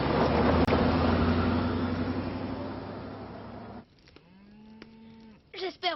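Cattle lowing in a herd, several long moos under a steady rumble of nearby traffic before the background drops away, then a few more moos close by toward the end.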